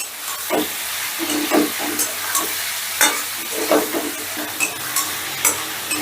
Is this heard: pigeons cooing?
no